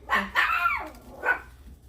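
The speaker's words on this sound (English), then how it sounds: "You are so ferocious, you little dog." A small dog gives three sharp, high barks close by, two quick ones followed by a single bark after a short pause, outdoors near a Blackstone griddle.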